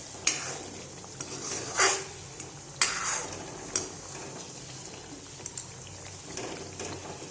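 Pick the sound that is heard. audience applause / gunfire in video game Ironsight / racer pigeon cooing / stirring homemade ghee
stirring homemade ghee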